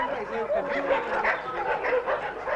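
Two dogs bark and yip repeatedly in quick bursts, loud and close, with a whimpering edge. A voice speaks over them.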